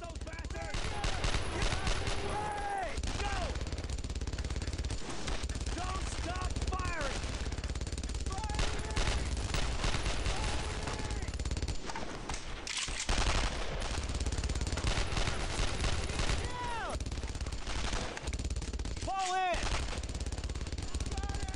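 Sustained gunfire in the Brothers in Arms: Road to Hill 30 video game, dense shots and bursts running throughout under a busy battle soundscape, with a voice speaking at points.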